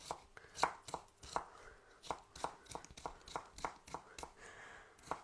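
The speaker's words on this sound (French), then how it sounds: "On va couper ça. Très finement." A knife chops cucumber finely on a board in a steady run of quick, crisp taps, close and soft.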